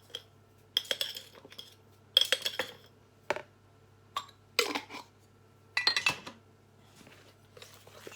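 A utensil stirs keto cake batter sweetened with erythritol in a bowl, giving a run of bright clinks and scrapes against the bowl in short bursts with pauses between, close and fairly quiet, with no talking.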